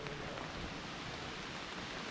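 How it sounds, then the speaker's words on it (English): Steady rain falls on a wet forest campsite in the Great Smoky Mountains on a rainy morning, a continuous even hiss of drops with no breaks and no voices. "it's starting to rain again"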